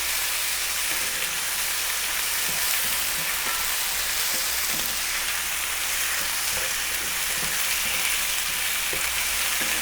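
Chicken tikka pieces fry in a pan with yogurt, giving a loud, steady, dense sizzle that crackles evenly throughout without any speech.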